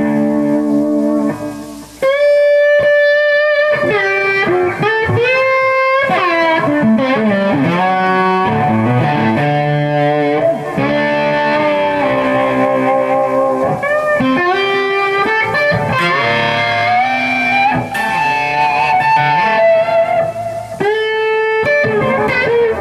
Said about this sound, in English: Let's hear it with a little bit of distortion on here.